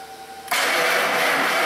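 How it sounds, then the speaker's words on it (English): A Ford F-150 with a single-cylinder misfire and a weakening battery cranks and catches, bursting into a loud, steady engine roar after a brief quiet lead-in. "go ahead and fire it up for us again, Hannah."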